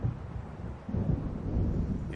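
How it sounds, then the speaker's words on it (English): Stormy ambience from the video game Alan Wake Remastered: a steady low rumble of thunder with rain and wind, swelling slightly partway through and continuing without a break. "It seems there's a storm coming."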